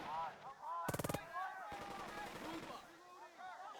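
A machine gun in Burden of Command fires a rapid burst of about six evenly spaced shots at an enemy squad holding a house, loud over background music, with someone talking before and after.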